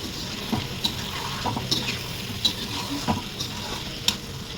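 Vegetables frying and being stirred in a pan with tomatoes to be added, a steady soft sizzle with scattered scrapes and clinks of a spoon against the pan.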